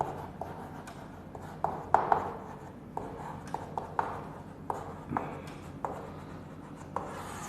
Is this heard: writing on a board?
yes